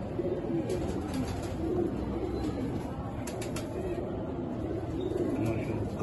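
Pigeons cooing in a loft kept by a Kasur pigeon breeder, a steady low murmur of overlapping coos with faint chirps above, continuous throughout with no clear talk.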